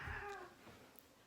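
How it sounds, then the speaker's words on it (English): A house cat gives a single short, soft meow close by, quiet and alone, with no talking over it. "That's my cat meowing."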